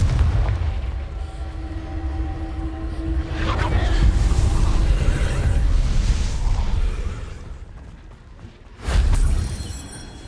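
A Confringo fire spell blasts in Hogwarts Legacy, a deep booming rumble swelling and fading over several seconds before a second sharp, loud impact near the end.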